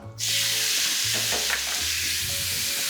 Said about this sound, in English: coated them in a smoked paprika, so you get that beautiful smoked paprika flavour on that beef, and we're going to put that into the pan. We're going to get it sautéed off